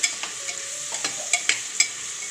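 Ginger, garlic and coriander paste sautéing in a pan for masala rice, a soft hiss under a series of crisp spatula taps and scrapes in quick succession, close by and with no talk.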